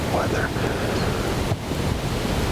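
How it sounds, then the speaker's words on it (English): Steady wind buffeting the microphone outdoors, a constant low rumble with no clear speech. "It's just windy, but you never know."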